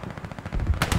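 Rapid automatic gunfire in the Hell Let Loose video game, a close burst of evenly spaced shots followed by heavier, louder rounds near the end, no speech.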